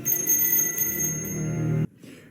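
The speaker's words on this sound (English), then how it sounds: "He's ringing a bell to summon them." A hand bell rung continuously, a bright sustained clanging tone with shimmering overtones, close and loud, cutting off abruptly near the end and leaving faint background sound.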